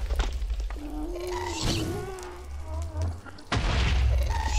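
Booming explosions tearing apart a player's base in Minecraft, with loud low-end blasts and rumbling debris, including a heavy hit near the end, alongside high cries from the game.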